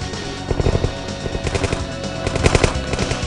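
Rapid machine-gun fire rattles in loud, dense bursts as a sound effect in a Lego Command & Conquer animation, a steady staccato stream running the whole stretch with no voices over it.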